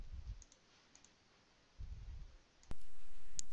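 Computer mouse clicks while registering for online courses: two sharp, isolated clicks near the end, close and distinct over a quiet, faintly hissing background.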